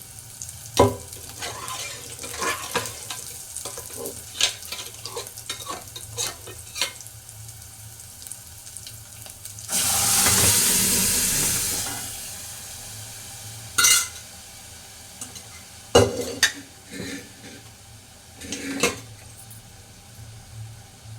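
Cooked lentils (dal) mashed in a pot while making a vegetarian lunch: a run of close tapping and scraping strokes, with a brief loud hissing surge midway, and no talk.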